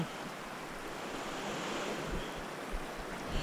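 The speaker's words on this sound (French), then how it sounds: "T'as pas idée, man, la hauteur des vagues!" High ocean waves surge and crash continuously around a boat on an expedition, a broad roaring wash mixed with gusting wind buffeting the microphone, with a few louder slaps near the end and no speech.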